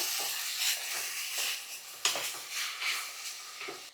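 Washed toor dal and rice are stirred into a spiced paste frying in a pot. A steady sizzling hiss runs throughout, with soft scraping stir strokes at irregular intervals and no talk.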